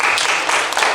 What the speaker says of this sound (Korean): 여러분 특별히 여기 계신 그 어머님들 큰 박수를 좀 이렇게